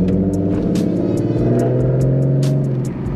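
A twin-turbo 3.7L Ford Mustang rumbles steadily while driving on a cold night, its deep engine drone loud and close with periodic clattering ticks over the top, no voices present.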